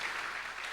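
A church congregation applauds during a Good Friday service, a steady wash of many hands clapping together, moderately loud and continuous throughout with no voices over it.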